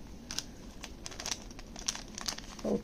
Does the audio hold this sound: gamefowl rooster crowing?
no